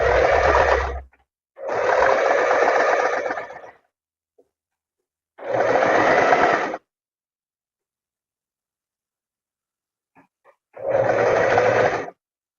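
Sewing machine running a straight seam along the edge of a square-neck tailored vest, with four distinct bursts of steady stitching separated by pauses, close and clear with no talking.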